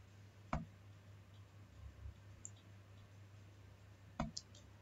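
A computer mouse gives two sharp, close clicks a few seconds apart while extracting a zip file, over a quiet electrical hum.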